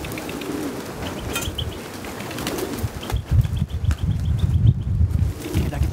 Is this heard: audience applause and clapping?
no